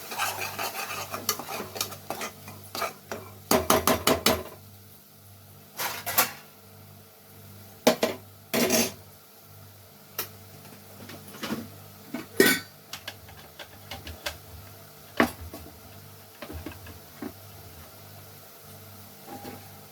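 Spoon scraping and stirring mutton gravy masala in a cooking pan, with irregular clattering strokes and metallic knocks, some in quick clusters, against a quiet hum.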